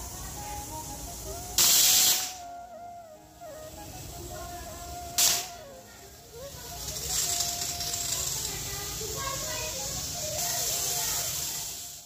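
Steam hisses from a pressure cooker holding fish dal on a home kitchen stove, with two sharp loud bursts of hiss over a steady background of kitchen clatter and faint hum.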